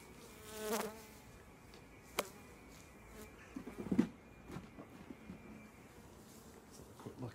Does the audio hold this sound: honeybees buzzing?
yes